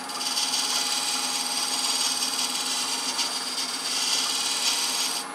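A hand-held thread-cutting tool works a thread into a wooden box with brass inlay, giving a steady, close rasping scrape that runs unbroken for about five seconds with no talking.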